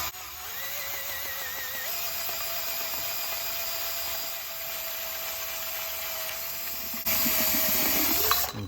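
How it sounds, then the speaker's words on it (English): A 2- to 2.5-inch doorknob hole saw bit in a power drill cuts a hole slowly while building a mason jar finch nest, giving a steady, close whine that shifts pitch once and grows louder near the end. "drill out your hole"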